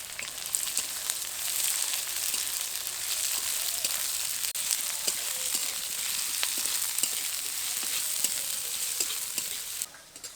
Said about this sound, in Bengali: তেলের মধ্যে এবার দেব ফোড়ন। ফোড়নের মধ্যে নিয়েছি তেজপাতা, শুকনো লঙ্কা, এলাচ, লবঙ্গ আর খুব সামান্য পরিমাণ গোটা জিরে। এবার দেব পেঁয়াজ কুচি।